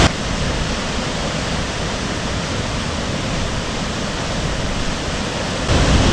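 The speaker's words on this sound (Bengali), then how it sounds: "প্রায় 30 ফুট উপর থেকে পড়ছে এই সানা ঘাগড়া ওয়াটারফল" Sana Ghagara waterfall in Keonjhar, swollen in the rainy season, drops about 30 feet with a loud, steady, broadband roar that holds unbroken and close throughout, with no voices.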